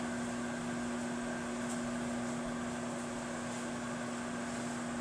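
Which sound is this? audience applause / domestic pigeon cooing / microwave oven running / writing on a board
microwave oven running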